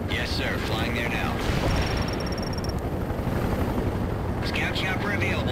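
A military helicopter in the video game World in Conflict thrums steadily throughout at close range amid battlefield rumble, with radio-style voices and bursts of chatter breaking in near the start and end.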